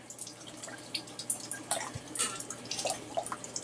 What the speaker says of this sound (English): We got to purge all the gunk water before we get clean water.